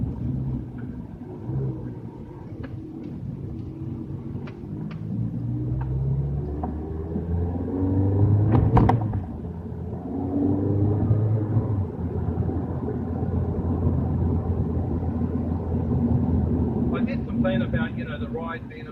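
A Ferrari 360 Challenge Stradale drives through back streets, its engine a steady low rumble heard from inside the cabin, with someone talking over it.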